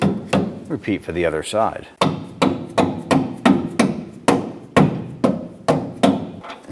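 Repeated sharp knocks as air shock units are tapped into place on a 1994-2004 Chevrolet S10, about a dozen evenly spaced close hits, with brief talk near the start.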